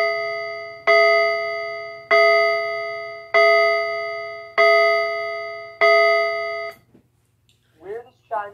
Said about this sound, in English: it does sound like Westminster Chime, but except the only difference is the first tone of Westminster Chime